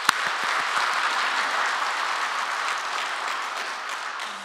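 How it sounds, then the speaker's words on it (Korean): A church congregation gives sustained applause during Sunday Mass, a dense wash of many hands clapping together that holds steady throughout, moderately loud and filling the room with no talk over it. "우리 공동체 전체 애쓰셨다고 박수 한번 드릴까요?"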